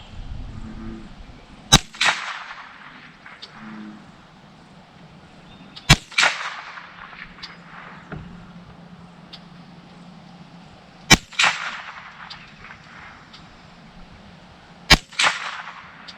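Four sharp, loud rifle shots from a Bear Creek Arsenal BC-200 lightweight threaded-barrel rifle firing Arms Core ammunition at a range, evenly spaced several seconds apart, each with a brief echoing tail.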